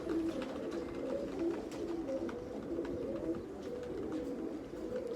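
Pigeons coo in soft, low, repeated rolling calls, fairly close, over a faint background hum.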